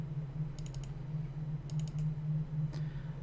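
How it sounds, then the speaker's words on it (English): Computer keyboard typing, likely while entering an administrator account name during vSphere setup: three quick bursts of key clicks over a steady low hum, moderately close, with no talk. "I don't like typing the word administrator"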